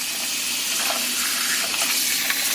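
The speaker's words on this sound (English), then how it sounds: "then we'll fill it with more water" Cold tap water pours steadily and loudly into an ultrasonic cleaner tank holding LEGO parts, a continuous close gushing hiss with no talking.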